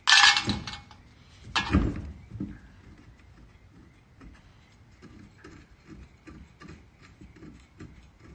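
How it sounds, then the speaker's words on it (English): Wheel bolts coming off a 1969 Fiat 500 F: two sharp metallic clanks near the start, then faint ticking and rattling of the bolts being spun out by hand. "So I've loosened the wheel bolts. I'll just get them off."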